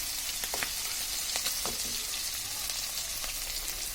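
Hilsa fish frying in oil in a pan for a mustard hilsa dish, a steady close sizzle with a few soft clinks and crackles scattered throughout, no voices.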